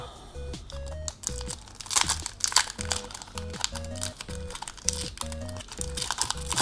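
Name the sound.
crinkling foil wrapper of a Magic: The Gathering booster pack being opened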